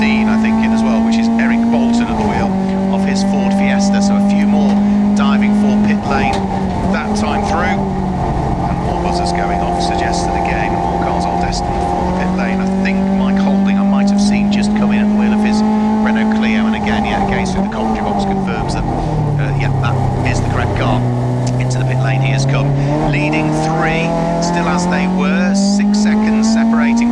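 Racing cars at Brands Hatch near the pit lane during a CSCC Tin Tops race, engines droning loudly with pitch rising and falling through gear changes, other cars passing, under continuous talk.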